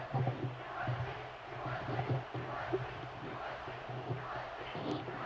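A stadium crowd in the College Football 26 video game keeps up a steady buzzing murmur at a moderate level through the whole stretch, with no sharp peaks.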